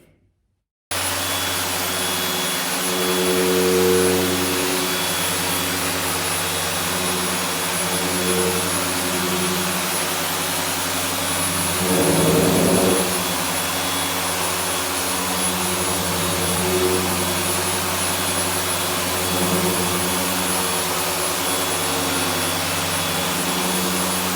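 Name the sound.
Griot's G9 dual action polisher running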